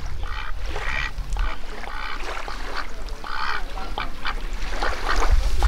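Repeated honking quacks from ducks or geese, several calls in irregular bursts over steady outdoor background noise, fairly close.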